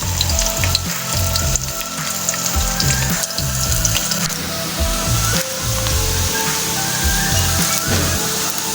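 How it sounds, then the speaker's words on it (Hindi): Two medium onions frying in hot oil for aloo keema, a loud, constant crackling sizzle up close with irregular bursts of stirring throughout. "प्याज को फ्राई करते हुए 2 से 3 मिनट हो गए।"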